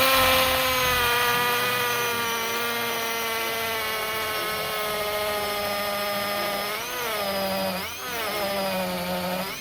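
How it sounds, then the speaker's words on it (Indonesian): A loud, steady high-pitched whine of a power drill running continuously on low speed through concrete with a 10 mm masonry bit, dipping briefly twice as it bogs down under load. "lanjut aja pakai mata bor beton ukuran 10 mm ya sob"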